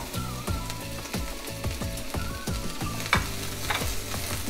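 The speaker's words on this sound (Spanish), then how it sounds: "en un sartén caliente voy a poner aceite de oliva y voy a poner media cebolla blanca que tengo aquí cortada en plumitas" Sliced half white onion frying in olive oil in a hot pan, a continuous close crackling sizzle with rhythmic low knocks and a louder spatter burst near the end, no voices.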